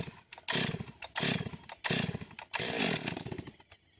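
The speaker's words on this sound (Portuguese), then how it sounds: "Afoga a motosserra, faz tempo que não foi usada." A long-unused chainsaw, choked for starting, sputters through several loud bursts of engine noise separated by brief pauses, roaring up and dying back as it catches.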